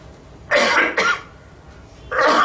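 Three or four harsh coughs from a man with a cold, in two quick bursts followed by another after a short pause, close and fairly loud with no talk.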